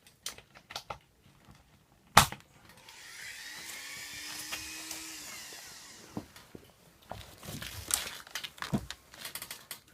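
A Dremel rotary tool sands a stroller seat-adjustment button ring on a Bugaboo Cameleon, a whining buzz that rises and fades over a couple of seconds, with clicks and handling noises before and after.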